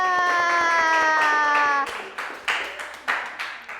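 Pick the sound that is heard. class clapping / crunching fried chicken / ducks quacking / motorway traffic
class clapping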